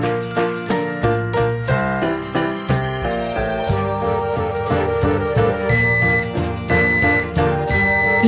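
A Nest Protect smoke and carbon monoxide alarm sounds a bright, tinkling chime melody, with repeated ringing notes rising and falling over several seconds, clear and close, with no voices.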